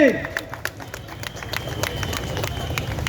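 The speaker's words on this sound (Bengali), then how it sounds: "হাততালি হোক সকলের পক্ষ থেকে" Applause from a crowd at a Rath Yatra festival felicitation ceremony, a brief patter of scattered claps under the hubbub of a gathering, moderately near and fairly soft.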